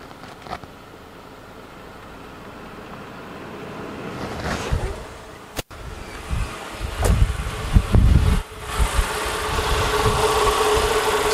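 A car engine idling with the headlights, high beams and blower motor switched on, a steady close rumble that grows slightly rougher and louder midway, with a few brief knocks and clicks.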